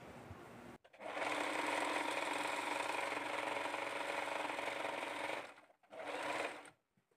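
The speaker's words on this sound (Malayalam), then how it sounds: "ഇപ്പം ഞാൻ 1/4 ഇഞ്ച് വീതി കൊടുത്തിട്ട് തയ്ച്ചെടുത്തിട്ടുണ്ട്." A sewing machine stitches a folded sleeve seam in a long, steady mechanical whir. It pauses briefly, then runs again in a second short burst before stopping, and no one speaks.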